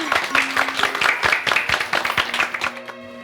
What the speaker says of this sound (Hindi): भाई जलेबी भाभी के लिए जोरदार तालियां बजाएं।